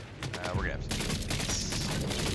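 A grenade-launching gun in Borderlands 4 fires a rapid string of bursts, loud and up close, layered over a dense wash of game effects and a sweeping whistle-like tone.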